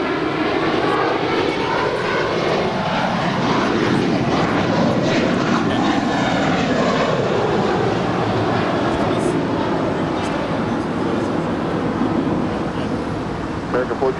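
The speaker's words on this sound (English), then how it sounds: "that's American Airlines Flight 2690 coming in from Las Vegas. It's an A319." An American Airlines Airbus A319 jet coming in to land at LAX, a steady, loud broadband roar held for the whole stretch, with a faint voice underneath at times.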